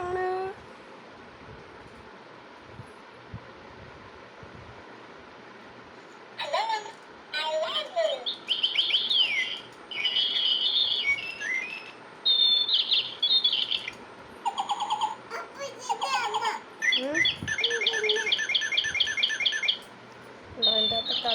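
A parrot chirps and squawks in repeated bursts of shrill, rapid calls, close and loud, after a quiet opening.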